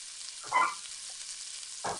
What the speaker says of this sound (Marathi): कांदा आपण मस्त परतून घेऊया